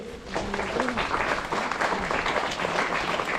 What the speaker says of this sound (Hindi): कृपया ताली मारेंगे